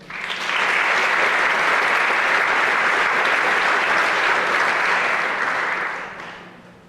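A crowd at a high school senior awards ceremony applauds: a dense, loud, sustained burst of clapping that swells quickly, holds steady for several seconds, then tapers off.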